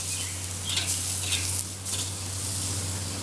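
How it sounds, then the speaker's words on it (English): Pork ribs laid bones-down on a barbecue grill sizzle steadily and close up, a continuous hissing crackle with a few brief louder spits and no talking. "the bones facing down on the ribs. And it's on contact. It sizzles."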